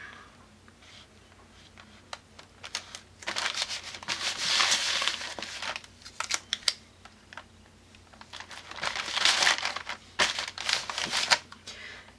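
Paper being cut with scissors and crumpled by hand for an art journal, with bursts of crinkling and snipping separated by quieter pauses, close and moderately loud, no talking.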